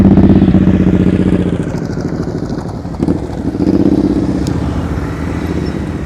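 Motorcycle engine during slow-speed riding practice, a loud close rumbling idle that dips and swells as the throttle is worked, with light mechanical clatter.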